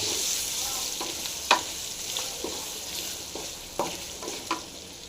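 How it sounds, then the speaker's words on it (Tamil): Chili powder stirred into an amla pickle with a spoon, a steady faint sizzle under a few soft scrapes and clinks nearby, no voices. "இது கலந்துக்கிட்டு அப்புறம் இன்னொன்று சேர்க்கலாம்"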